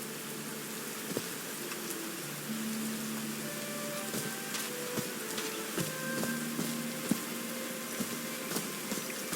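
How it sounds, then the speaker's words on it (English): Rain falling in the video game Call of the Sea, a steady soft hiss of drops with scattered sharper patters over a faint ambient background, alone without any talk. "These drops of rain are so refreshing."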